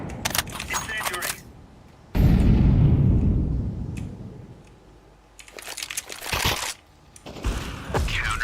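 In Counter-Strike, an incendiary grenade bursts into a loud, sustained roar of fire. Rapid gunfire bursts come before and after it, while an excited commentator talks over the match.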